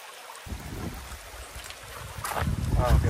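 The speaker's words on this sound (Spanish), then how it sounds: "Wow, qué preciosura de río" A river flows steadily outdoors on a ranch in the countryside, with a continuous rushing wash that grows louder toward the end, joined by faint wind noise.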